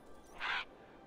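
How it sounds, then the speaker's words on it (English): A single short crow caw from the game Assassin's Creed Valhalla, a brief harsh burst rising briefly above a quiet background. "Oh, I hear a crow."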